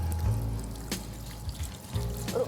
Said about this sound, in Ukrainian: от поки я мою руки